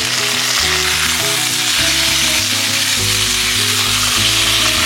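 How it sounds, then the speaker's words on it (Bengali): Marinated chicken frying in a pan with sautéed vegetables, a loud, dense, continuous sizzle heard up close, with stirring noises underneath and no talking. "এবার এর মধ্যে আমি ম্যারিনেটেড চিকেনটা অ্যাড করে দিচ্ছি।"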